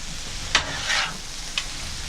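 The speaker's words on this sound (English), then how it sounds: "And give it another stir." A utensil stirs jambalaya with Rotel and tomatoes in a pot, making two quick scraping clinks and a short swishing pass over a steady low sizzle.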